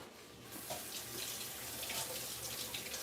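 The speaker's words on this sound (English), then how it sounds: "Wash my hands off here" Kitchen sink faucet running water for hand washing, a close steady hiss and splash that starts after a short pause and continues throughout.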